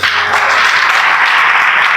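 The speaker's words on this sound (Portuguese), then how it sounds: "Você pode aplaudir Jesus?" A church congregation applauds in a steady, dense wash of many hands clapping at once, loud and continuous with no speech over it.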